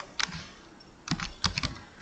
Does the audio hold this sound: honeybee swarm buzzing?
no